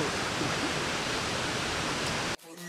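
A waterfall at a park in Misamis Oriental, a steady loud roaring rush of water that cuts off sharply near the end.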